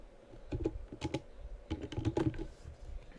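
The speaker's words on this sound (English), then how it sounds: "And I'm going to type what's up YouTube." Fingers type on a computer keyboard nearby in short bursts of quick clicking keystrokes, with small pauses between the groups of taps.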